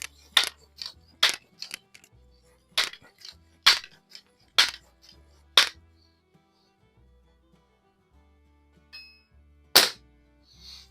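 Kessler multi-pump .22 airgun fired at Rojo tactical targets downrange, a string of sharp crisp cracks spaced about a second apart, then a pause and one final shot, with faint distant target impacts between.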